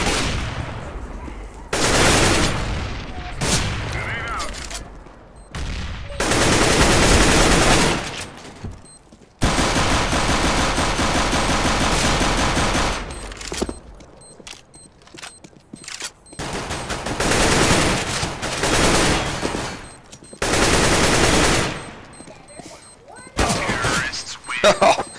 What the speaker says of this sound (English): What a gunfight.